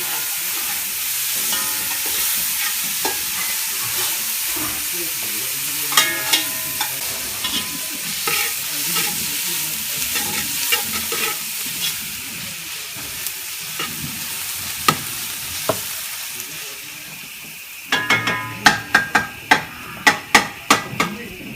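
Sausages fry in a pan with a steady, fairly quiet sizzle, and louder sharp knocks and utensil clatter come in toward the end.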